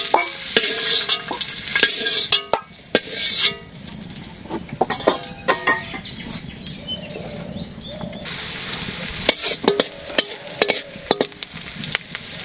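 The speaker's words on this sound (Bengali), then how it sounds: "পেঁয়াজ ভাজি হয়েছে, তারপরে মশলা করে দিলাম, কষিয়ে নিচ্ছি।" Onions and spices sizzle steadily in a pan in a Bangladeshi village kitchen, with a utensil stirring and clattering at irregular intervals, close and fairly quiet.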